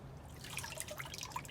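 Water dripping and trickling off an item just lifted from a hydro dip water bath, with scattered quick, close drips over a faint background.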